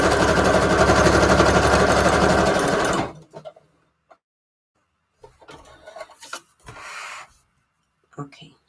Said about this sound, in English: I'm just using that standard zigzag stitch just because this is a really small embellishment.